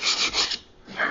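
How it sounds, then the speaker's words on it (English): Short rasping strokes of hand sanding on wood, three quick scrubs, a brief pause, then one more stroke, close and fairly soft. "I'm just going to do a little light sanding touch-up."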